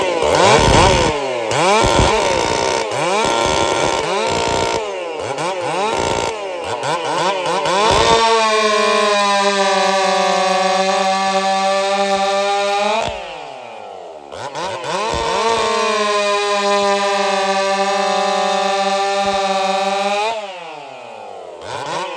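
A chainsaw fitted with square-ground chain cuts through wood, a loud, close engine that revs in short blips, then settles into long sustained cuts with a steady whine, broken by a brief dip between cuts.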